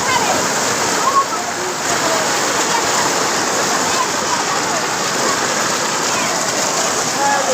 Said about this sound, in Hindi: लगातार बारिश के चलते नदी नाले उफान पे हैं